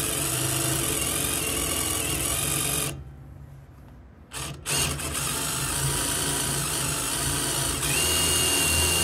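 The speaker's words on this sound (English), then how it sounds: "Use the self-tapper as the drill bit because I don't have any good drill bits." Self-tapping screw used as a drill bit, driven by a power drill into steel, whirring loudly and steadily with a brief pause in the middle before the motor resumes.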